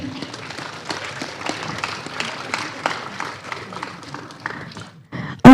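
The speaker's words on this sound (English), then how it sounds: "Please give applause, guys." Scattered clapping from a modest conference audience at a medical and health sciences event, a loose patter of hands that thins toward the end, cut off by a brief loud bump.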